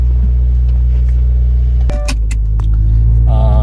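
A 2017 Subaru WRX with a freshly replaced starter runs with a steady, close engine rumble, broken midway by a sharp click and brief rattling, then a rising whine near the end.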